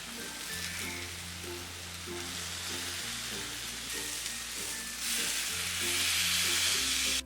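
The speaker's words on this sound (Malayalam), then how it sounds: "ഇനി ഇതിലേക്ക് എടുത്തു വച്ചിരിക്കുന്ന ലോബ്സ്റ്ററും പ്രോൺസും ഇതിലേക്ക് വെച്ചു കൊടുക്കാം." Lobster and prawns fry for lobster masala with a dense, continuous sizzle that swells louder toward the end. Steady music plays underneath.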